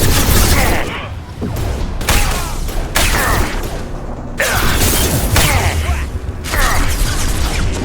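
Gunfire in a Mass Effect 2 firefight, loud bursts of shots and booming impacts in uneven clusters, close and dense, with brief pauses between volleys.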